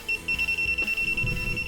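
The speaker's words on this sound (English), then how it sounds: "You can hear it beeping." Rapid, high-pitched electronic beeps repeating in a steady pulse, fairly faint, with a low hum and some handling noise beneath.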